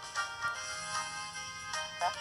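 A ringtone preview plays from a Nokia 2780 phone speaker, a bright, repeating electronic melody with rhythmic pulses, moderately quiet and heard on its own.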